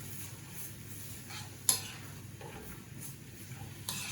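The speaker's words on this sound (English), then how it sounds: "Give this a good mix." Ketchup compote being stirred in a tiny cereal bowl, with soft, quiet scraping and a couple of sharper taps of utensil against the bowl.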